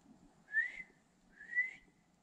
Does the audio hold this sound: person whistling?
yes